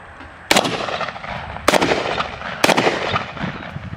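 WWII paratrooper weapon fired outdoors in three sharp, loud shots spaced about a second apart, each with a rolling echo trailing off.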